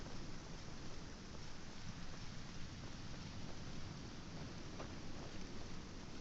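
Steady rain in the survival game Aska, a dense continuous hiss falling on surfaces with faint scattered drops, even and unbroken throughout with no voices.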